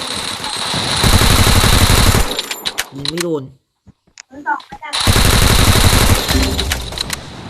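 Loud, dense bursts of rapid automatic gunfire from Free Fire MAX, with a brief lull in the middle where a few scattered shots and short voice sounds break through.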